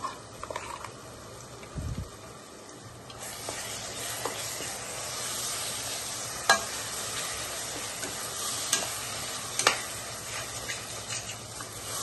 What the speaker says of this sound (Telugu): పేస్ట్ అంతా బాగా వేగాలి నూనెలో